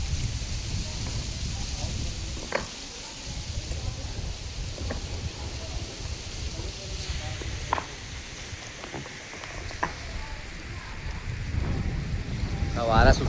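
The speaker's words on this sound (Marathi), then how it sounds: "वारा सुटलाय बघा" Strong wind gusts roar and rumble across a Sindhudurg terrace ahead of the first monsoon rain, buffeting the microphone in waves with a few sharp knocks and clatters, loud and continuous.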